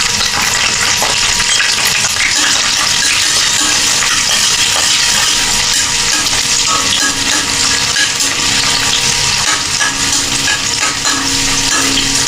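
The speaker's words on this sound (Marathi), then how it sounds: "मी ते तेजपत्ता आणि कांदा घालून आता मी फोडणीला देणार आहे।" Bay leaf and chopped onion sizzle loudly in hot oil for a tempering, a steady crackling fry with occasional stirring scrapes throughout, close and continuous with no talking.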